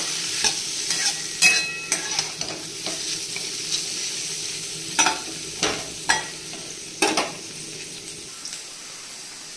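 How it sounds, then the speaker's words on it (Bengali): Paneer and vegetables fry in oil under a soft sizzle while a utensil stirs and scrapes the pan in repeated sharp strokes, close and clear, with no voices. "এই তেলেই আমার ভাজা হয়ে যাবে,"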